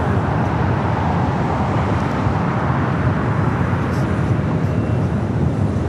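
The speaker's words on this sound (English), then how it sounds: "Up next at the Hawaiian A321neo heading to Honolulu" Hawaiian Airlines Airbus A321neo jet bound for Honolulu at Los Angeles LAX airport, a steady broad roar of jet engines holding constant throughout, distant and continuous with no pauses.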